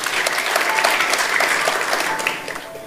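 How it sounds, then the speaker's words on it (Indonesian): A congregation claps together during a Tuesday Bible service, the sound full and sustained before tapering slightly at the end. "Kita beri tepuk tangan untuk kebenarannya."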